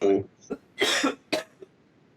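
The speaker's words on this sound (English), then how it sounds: "I'm just getting coughs, man" A man coughs several times in quick, harsh bursts, close and loud, with short gaps between them.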